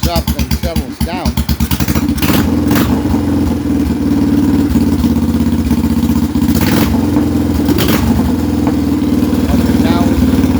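A Royal Enfield Bullet 350 single-cylinder motorcycle, cold-started on the second kick, settles into a loud, steady, thumping idle close by after a few sputtering firing beats at the start. A person talks over the engine.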